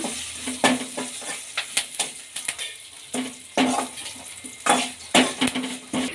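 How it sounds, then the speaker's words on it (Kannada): Byadgi chillies frying in tempering oil with asafoetida and curry leaves, crackling sizzle punctuated by sharp metallic clinks and scrapes of a spoon against the pan, close and uneven, with no speech. "ಬ್ಯಾಡಿಗೆ ಮೆಣಸಿನಕಾಯಿ ಇದನ್ನ ಚೆನ್ನಾಗಿ ಫ್ರೈ ಮಾಡ್ಕೊಳ್ಳೋಣ"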